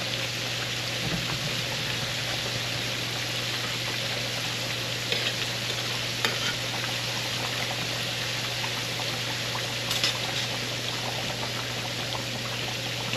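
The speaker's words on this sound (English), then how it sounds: "So get all this fish into the fire. Let it cook." Fish cooking over an open fire for a gourmet seafood dish gives a steady, dense hiss and bubbling roar with a low hum, carrying on evenly throughout with a few faint crackles and no talking.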